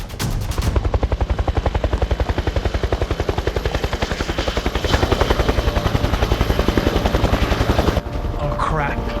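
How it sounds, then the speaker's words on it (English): Loud, rapid rhythmic chopping of approaching helicopter rotors in an action movie, close and steady, swelling slightly midway, with a brief voice in the background. "Those are helicopters."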